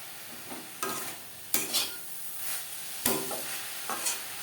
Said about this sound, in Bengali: গুড়ের সাথে নারকেল বেশ ভালো করে মিক্স করে দেব।